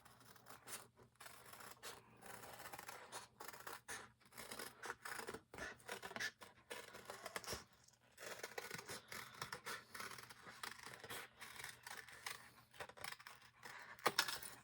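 Scissors cut out a wing shape for a fairy or angel bottle craft. The blades snip and rasp quietly in a steady rhythm of repeated close cuts, with no voice.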